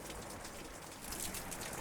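Steady rain sound effect, a dense continuous hiss of falling drops filling the space, even and fairly loud throughout.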